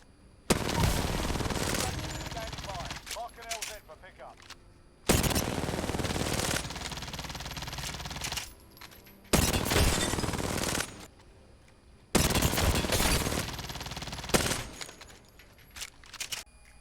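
Mac 10 loadout gun in the Warzone video game firing loud, sustained full-auto bursts, four long strings of rapid shots separated by brief pauses, close and dominant.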